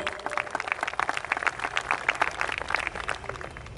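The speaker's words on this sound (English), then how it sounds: "Please give them a good round of applause." An audience at an evening music concert applauds the musicians, a dense, steady patter of many hands clapping at a moderate distance, with no speech over it.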